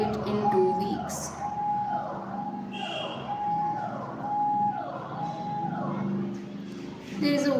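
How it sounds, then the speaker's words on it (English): A wailing ambulance siren sweeps up and down in repeated cycles on a road, loud and fairly close, with a rumble of traffic beneath it. "There is a voice of ambulance"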